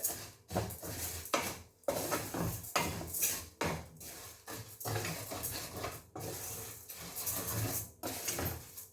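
Dry vermicelli (semiya) being heated and stirred in a pan, with repeated scraping and clinking of a utensil against the metal in an uneven rhythm, close and moderately loud.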